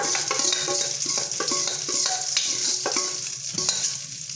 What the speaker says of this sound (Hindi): एबे एथिरे ए बैटरटा को एमती ढालीदेवा।